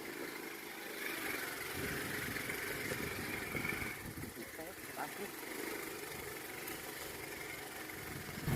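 A habal-habal motorcycle taxi climbs a mountain road, its engine a steady mid-pitched drone heard from on the bike, faint under wind noise while riders talk.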